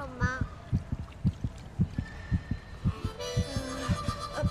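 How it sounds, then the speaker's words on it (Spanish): Heartbeat ringtone from a mobile phone: a steady double-thump pulse repeating about every half second, loud and close, with a faint tonal melody layered over it toward the end. "Ese latido del corazón es el tono de mi teléfono."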